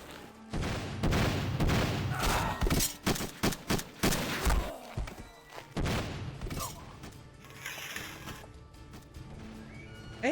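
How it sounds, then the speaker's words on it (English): Loud, dense bursts of rapid machine gun fire from the Xbox action game New Legends, clustered in the first half and tapering into a busier mix where horse whinnies and hoofbeats seem to mingle with the shots. "They have machine guns?"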